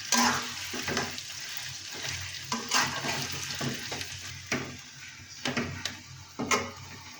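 Mashed potato frying in oil as it is stirred in a pan, a steady close sizzle broken by repeated scraping strokes and soft knocks from the spoon.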